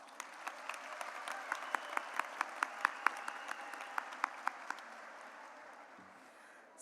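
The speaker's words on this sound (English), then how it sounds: "Please join me for a round of applause." Audience applause at a 2022 Frederick Douglass High School graduation ceremony, a steady wash of many hands clapping with sharp individual claps standing out, moderately distant in a large hall, fading out near the end.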